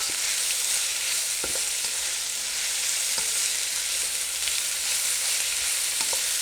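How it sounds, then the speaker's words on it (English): Onions and peppers sauté in a pan, giving a continuous, even frying hiss up close with occasional soft taps of a utensil, and no one speaking. "I'm gonna cook this for a little bit until this, you know, the onions become translucent and my peppers start to cook"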